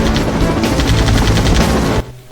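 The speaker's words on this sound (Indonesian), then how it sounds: "Wah, ada helikopter." A cartoon helicopter gives a loud, close, rapid rotor chop with rhythmic thudding pulses, steady for about two seconds before cutting off sharply.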